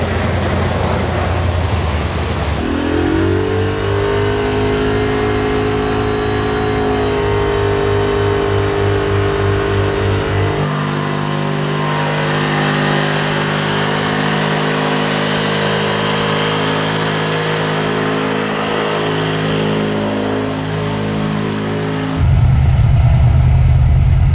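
A 1971 Chevy C10 pickup engine revs and pulls through gears while driving, with a loud, steady drone that rises in pitch several times and changes as it shifts and settles, with no talking.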